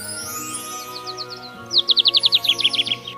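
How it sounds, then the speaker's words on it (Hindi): Small injured bird in an animated fairy tale chirping in rapid bright repeated tweets, a quick burst then a longer run of about a dozen loud notes over a soft background music bed. "जब उसने एक जख्मी छोटी चिड़िया जमीन पर गिरी देखी, सुंदस ने उसे प्यार से उठाया।"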